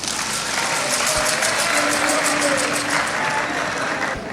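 An audience applauding the president of Guinea, Mamadi Doumbouya, at a cultural event: steady, dense clapping from a large crowd, loud and sustained throughout.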